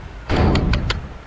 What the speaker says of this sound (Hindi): गाड़ी पलटी हो गई।